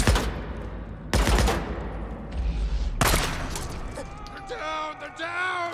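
Gunfire in the zombie shooter Days Gone: loud sharp bursts of shots with a booming low report, several separate volleys, followed by a speaking voice toward the end.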